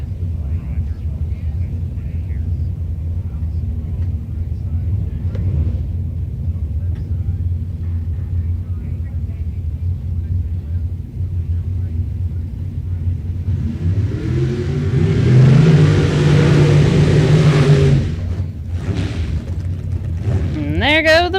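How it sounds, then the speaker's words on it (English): Drag racing cars do burnouts at a drag strip. A distant rumble swells into a loud, roaring, tire-screeching surge of engine noise for several seconds, then fades back, with voices heard over the track ambience. "And there go the burnouts."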